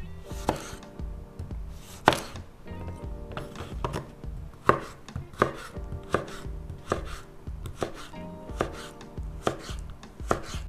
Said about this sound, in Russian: Нарезаем тоненькой соломкой.